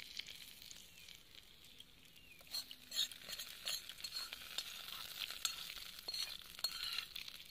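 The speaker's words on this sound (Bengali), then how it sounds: "এবার আমি এই তড়কাটা দইয়ের মধ্যে দিয়ে দেব" Lasooni dahi tadka: a hot garlic tempering poured into yogurt gives a steady, close sizzling hiss that swells into crackling pops and spits partway through, with no talking.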